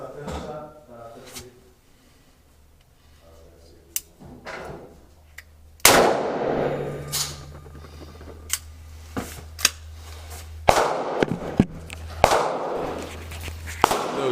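A Ruger Redhawk revolver fires Corbon .45 Long Colt hollow points at an outdoor range: several sharp, loud, irregularly spaced reports, with voices talking between shots.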